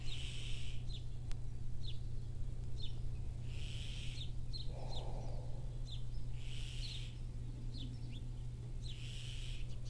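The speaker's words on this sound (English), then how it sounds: "One of my favorite things about teaching here are the birds. It is like being in an aviary" Several birds call and chirp in repeated bursts at an outdoor sunrise yoga session in Hawaii, over a steady low hum, with the calls sounding fairly close and clear and no one speaking.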